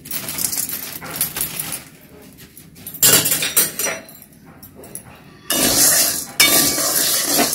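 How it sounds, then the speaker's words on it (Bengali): Dry sago granules rattle and scrape in a pan in uneven bursts as they are stirred, with metallic clinks and pauses between rounds. "250 গ্রাম সাবু আমি দিয়ে একটু নেড়ে নেড়ে একটু গরম করে নিতে হবে"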